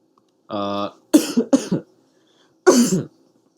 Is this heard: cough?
yes